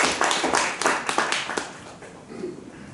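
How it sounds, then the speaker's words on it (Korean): A church congregation claps together during a Sunday worship service, a dense, steady patter of many hands that fades and thins toward the end. "박수로 받도록 하겠습니다"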